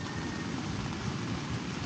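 Heavy rain pounds a camping tent in a dense, unbroken roar of drops, loud and close, with no one speaking.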